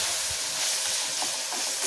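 Onions and tomatoes sautéing in hot oil in a pan for fish curry, a steady dense sizzling hiss that fills the whole moment, close and continuous with no talking.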